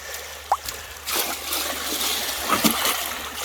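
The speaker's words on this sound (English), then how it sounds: "Let me dump some of this water out and I'll show you what we're left with." Water is dumped out of a five-gallon bucket onto a gold sluice mat, a steady splashing pour with a couple of sharp knocks and drips, heard alone.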